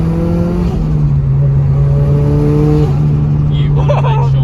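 A turbocharged SR20 engine in a 2000 Nissan Silvia S15 Spec R hums at a steady pitch from inside the car, rising slightly, with a voice talking over it.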